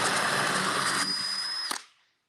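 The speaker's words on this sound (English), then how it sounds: "whatever it is that I want to drill." A power drill set to high speed whirs steady and close, then winds down and stops into silence.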